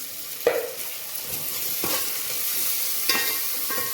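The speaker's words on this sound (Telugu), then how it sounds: "మంచిగా పచ్చివాసన పోయేదాకా వేపుకోవాలి." Ginger garlic paste fries in a pan for egg dum biryani, a constant close sizzle broken by a few sharp scrapes of the stirring spoon, with no voices.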